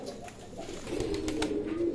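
Shialkuti and running player pigeons coo softly nearby in low, throaty rolling calls, getting fuller toward the end, with a few faint clicks in the background.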